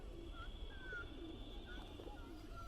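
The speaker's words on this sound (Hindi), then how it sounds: "एक कबूतर मेरे पास भी आ गया है" Soft pigeon coos and chirps sound faintly over a steady background hum in Almaty, Kazakhstan, with a few brief bird calls repeating.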